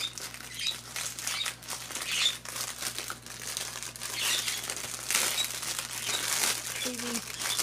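Thin plastic bags crinkle and rustle steadily as they are pulled off a new doll's legs, with a brief squeak near the end.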